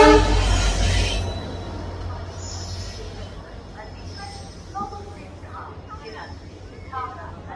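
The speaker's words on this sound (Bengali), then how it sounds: "ফাইনালি আমাদের ট্রেন চলে এসেছে, আর এটা হচ্ছে সেই হাওড়া বালুরঘাট এক্সপ্রেস" The Howrah Balurghat Express pulls into Malda station with a loud rumbling surge at first that eases into a quieter rolling hum, and voices murmur on the platform.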